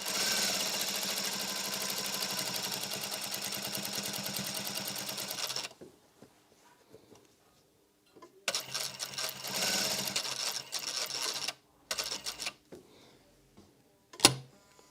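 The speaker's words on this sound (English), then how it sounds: "And I'm going to edge stitch all the way round." A sewing machine edge-stitches a pleated fabric face mask, running in a fast, even mechanical chatter for several seconds, stopping, then resuming in shorter runs broken by pauses and a sharp click near the end.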